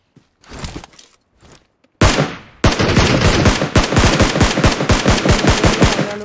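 Automatic gunfire in a battle royale video game crackles loud and close in rapid sustained bursts after a few sparse shots and a pause, with a faint voice briefly underneath.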